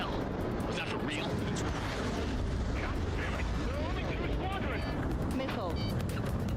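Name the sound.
explosion as platform is destroyed in fighter jet video game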